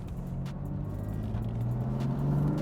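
An MHD tuned 2015 BMW M3 runs with a steady, deep engine and exhaust drone, a continuous low rumble building slightly in loudness, heard from inside the car.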